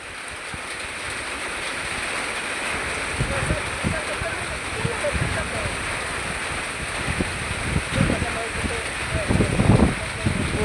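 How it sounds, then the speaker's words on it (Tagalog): Strong winds and heavy rain from Typhoon Crising lash the open air on Balut Island, Sarangani: a constant roaring rush with gusty surges, with voices present in the storm. "Ang hangin. Okay lang sa yung malakas na ulan."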